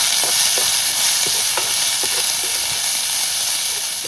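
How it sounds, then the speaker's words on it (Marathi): Onion frying in a pan with chilli until soft, a steady close hiss and sizzle with faint stirring ticks throughout, no talking. "आणि कांदा आपल्याला असा हा नरम करून घ्यायचा."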